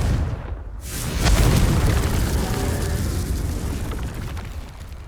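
A Confringo explosive spell blast in Hogwarts Legacy, a loud booming burst that swells after a brief quiet and rolls on as a sustained rumbling roar, with no talk over it.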